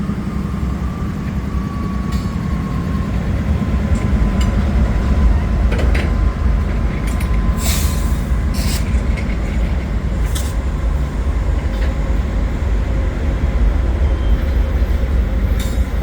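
A freight train led by two CW44AC locomotives rolls past at a rail scene in Wyoming, a loud, continuous rumble of wheels and wagons with intermittent metallic squeals and clanks.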